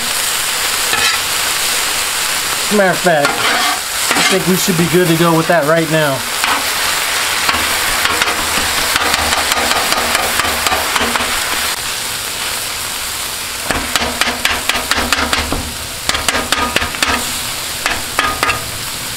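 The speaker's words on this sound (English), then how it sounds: "it's almost ready to just go ahead and start chopping it now" Thin-sliced ribeye sizzling on a hot Blackstone griddle while a metal spatula scrapes and chops in quick rhythmic bursts for cheesesteaks; someone talks briefly over it.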